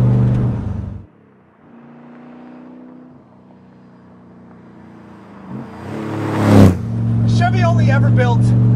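A Corvette Grand Sport's Lingenfelter-prepped LS3 V8 with eight-stack injection cuts out, then burbles at a low idle and swells into a sharp rev before settling into a loud, steady drone, with a voice briefly over it.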